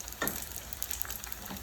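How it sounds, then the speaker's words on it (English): Chicken for orange chicken deep-fries in hot oil with a close, steady crackling sizzle and scattered sharp pops, with no other sound. "when you're frying, especially when you're deep frying"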